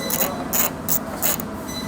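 Ratchet fitted with an extension undoing 12mm bolts inside the quarter panel of a Toyota Prado 250, four quick bursts of rapid clicking close up, separated by short pauses.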